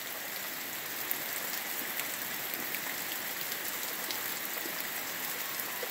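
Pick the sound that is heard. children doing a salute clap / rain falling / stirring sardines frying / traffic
rain falling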